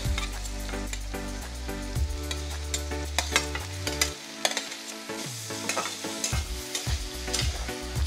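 Green and yellow capsicum with chopped green chilies frying in a pan, a steady sizzle broken by repeated scraping and clattering stirs, close and fairly loud with no talking.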